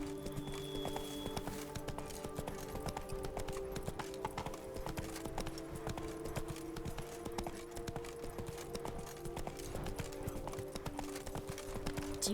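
Clip-clopping hooves of a horse ridden in The Witcher 3 video game, a steady even trot running throughout over ambient game music, with a brief whinny early on.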